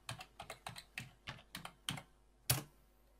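Password typed on a computer keyboard at a Windows boot encryption screen: about a dozen quick, quiet key clicks in an uneven rhythm, ending in a firmer keystroke, close and alone.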